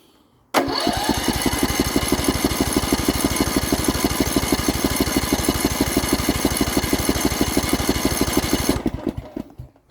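A Poulan Pro small engine on a test stand catches on choke and runs at a loud, steady, fast chugging idle for about eight seconds, close by, then cuts off abruptly.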